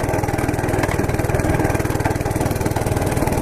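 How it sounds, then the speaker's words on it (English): A Monster Moto MMB80 gas minibike engine runs close and steady, a rapid even putter with a rattling, noisy clutch, loud and continuous without talk. "You hear that clutch making noise?"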